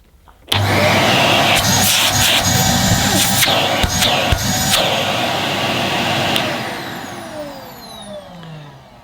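A Karcher AD2 ash vacuum cleaner switches on with a sudden onset and runs as a loud, steady, close motor roar, with handling and knocking noises on top, before the sound tapers off toward the end.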